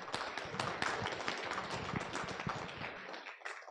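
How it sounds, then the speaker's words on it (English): Audience applause after a presentation on tools against disinformation, a dense burst of many hands clapping that runs steadily for about three seconds and then thins out toward the end. "I think they deserve a round of applause"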